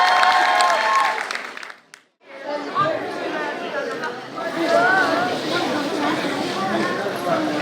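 Audience applause at a children's model municipal council session, a dense wash of clapping and crowd chatter that briefly cuts out, then resumes steady and loud.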